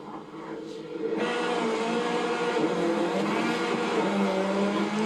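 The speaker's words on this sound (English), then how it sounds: "Listen to the engine." A racing car's engine in The Crew 2 during the American Patrol race, running steadily and loud for several seconds after a brief quieter start, with a sustained engine drone and some tire noise.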